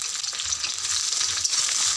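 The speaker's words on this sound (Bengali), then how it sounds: "পেঁয়াজ আর কাঁচা লঙ্কা ভাজতে দিয়েছি, ভাজা হয়ে গেছে। টমেটোটা দিয়ে দিই" Onion and green chili frying in a pan with tomato just added, giving a steady close hissing sizzle with faint stirring scrapes and no talking.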